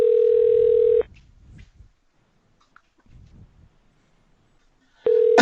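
A steady electronic phone tone sounds for about a second, falls silent with faint background noise, then returns at the end.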